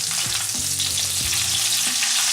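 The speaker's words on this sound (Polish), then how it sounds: "A w międzyczasie przerzućmy rybkę na drugą stronę" Carp fillet fries in a pan alongside almonds and lemon, producing a loud, close, steady sizzle with a few low clunks of the pan or spatula shifting.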